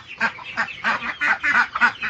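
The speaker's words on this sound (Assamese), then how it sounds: "ঘৰৰ হাঁহ।" Domestic ducks quacking at feeding time, a close, loud run of about eight rhythmic nasal quacks in quick succession.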